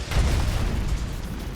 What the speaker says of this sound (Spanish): Se produjo un estruendo, una explosión leve que sonó como si un edificio entero se hubiera derrumbado